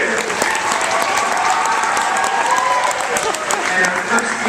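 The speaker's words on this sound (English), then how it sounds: "let's give him one more big round of applause" Dense, steady audience applause at an author event, a continuous wash of many hands clapping throughout with no break, fairly loud and close.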